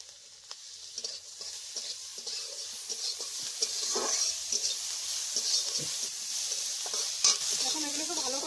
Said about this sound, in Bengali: এখন এগুলোকে ভালো করে ভেজে নিতে হবে।